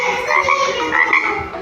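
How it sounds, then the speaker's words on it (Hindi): Frog croaks come in a few quick, raspy bursts, close and fairly loud, with no other sounds around them. "फ्रॉग यानी मेंढक"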